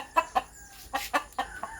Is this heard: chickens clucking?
yes